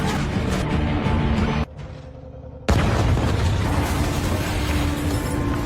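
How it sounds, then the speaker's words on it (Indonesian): A bomb inside a boat explodes in a loud, rumbling blast with a heavy low-end roar. It cuts out briefly, then returns as sustained, dense booming noise. "melihat ledakan besar tersebut"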